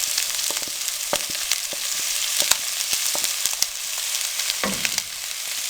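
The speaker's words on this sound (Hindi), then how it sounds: "अब इनको हम 2 से 3 मिनट के लिए अच्छे से भून लेंगे।" Chopped onions and green chilies frying in a pan, a constant loud sizzle with scattered clicks and scrapes from stirring throughout, no voices.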